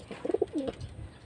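Pet pigeons in a backyard breeding loft coo in a short close burst of soft rolling calls, a few quick throaty pulses followed by a longer drawn note, then quiet low rustling.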